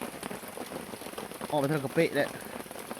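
Steady rain falling on surfaces outdoors, a dense continuous patter throughout, with a person speaking over it briefly partway through.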